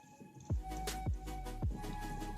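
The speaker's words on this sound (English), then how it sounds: "Now we are going to mix with hand first properly." Bhajji batter ingredients, flour with salt, ajwain and a pinch of cooking soda, being mixed by hand in a bowl, giving three soft, evenly spaced squishing thumps with a low steady background.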